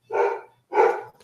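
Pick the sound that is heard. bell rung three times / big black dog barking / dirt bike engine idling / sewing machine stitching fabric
big black dog barking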